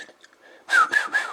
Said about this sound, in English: I can't whistle to save me life for this morning.